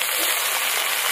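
Chopped cabbage hitting hot mustard oil tempered with asafoetida, dried chilli and bay leaf, giving a steady, loud, broadband sizzle that holds evenly throughout without pauses.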